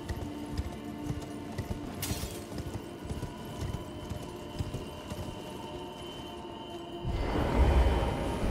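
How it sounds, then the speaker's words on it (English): A horse gallops in the video game Elden Ring, with steady rhythmic hoofbeats running through a constant game soundscape, followed by a louder, fuller whoosh near the end. "Ride my horse."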